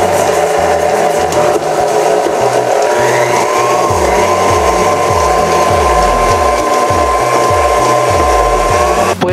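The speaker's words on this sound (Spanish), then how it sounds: "lo que estamos batiendo en la batidora" A loud electric mixer whirs continuously, its motor pitch wavering and bumping as the beaters churn through thick, creamy cookie batter.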